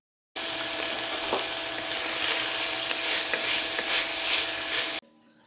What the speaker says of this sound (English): So just going to fry a little bit with the bacon to start getting all the rich flavors that we need